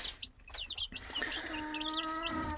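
A hen gives soft, close clucks and a drawn-out murmuring call, with a few short chirpy notes mixed in; no talking.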